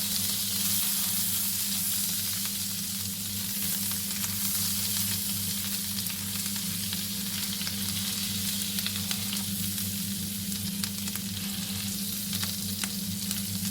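Ginger, chili flakes and fresh coriander melting in a pan, a loud continuous sizzle and crackle of frying, close and steady with no talk.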